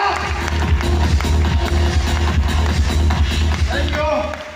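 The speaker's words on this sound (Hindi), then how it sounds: "जोरदार तालियां, जोरदार।" Audience applause and cheering fill a crowded hall at a recognition ceremony in Bharatpur, loud and steady for several seconds with crowd noise mixed in.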